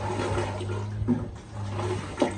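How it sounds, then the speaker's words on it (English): A marine toilet aboard a boat being pumped and flushed, with gurgling, rushing water over a steady low hum and a couple of sharper clunks from the pump, heard close up. "You pump it and flush it."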